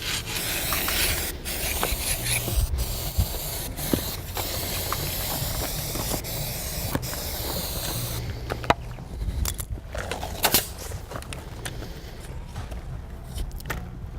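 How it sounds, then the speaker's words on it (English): A steady hiss of spray glue runs for several seconds, with rubbing and handling noises, then gives way to quieter scraping and taps. "Spray glue and tape."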